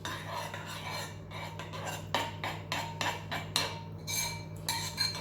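A utensil stirs extra virgin olive oil into yogurt in a bowl, making a quiet run of rhythmic clinks and scraping taps against the side, close up and without voices.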